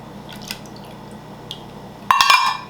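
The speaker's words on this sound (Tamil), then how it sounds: "ஒன்றரை கப் இதில் விடுங்க." White jelly mixture, one and a half cups, poured into a mould: a brief liquid splash and trickle near the end, preceded by a few faint drips, no talking.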